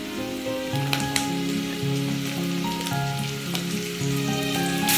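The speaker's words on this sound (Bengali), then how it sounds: "এবার এর মধ্যে দিয়ে দেব আমি কুচানো গাজর।" Chopped carrots sizzling in a pan over a medium gas flame for a vegetable pasta, with a constant crackling sizzle and a few sharp clicks, under steady background music.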